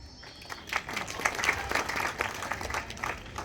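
An audience claps in a brief, uneven burst of applause at a gathering of students and teachers, the claps close and moderately loud across a few seconds.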